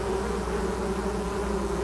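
Honeybees buzz around blooming flowers in a steady, dense hum that sounds close and continuous for the whole short stretch, with no talking over it.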